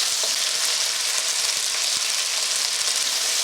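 Beef is seared for a few seconds in smoking hot oil for a black bean stir fry, giving a loud, constant close-up sizzle and crackle with occasional soft stirring knocks.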